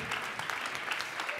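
Audience applause at a corporate social responsibility awards evening, with brisk, close clapping running through a short burst.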